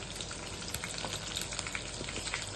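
Cashews, green chilies, a dried red chili and curry leaves fry in oil for tamarind pulihora, making a constant, faint crackling sizzle. Small pops dot the sound throughout.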